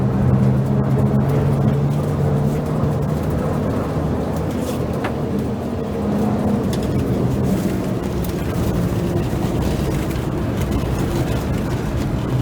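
A race car's engine drones loud and steady in fourth gear, a continuous rumbling roar with shifting tone throughout.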